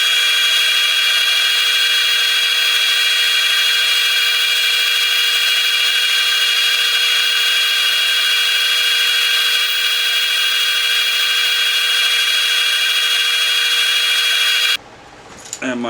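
Walnut wand spinning on a wood lathe while being sanded through grits from 120 to 400, giving a loud, steady, unbroken whir with high tonal hum that holds throughout and cuts off abruptly near the end.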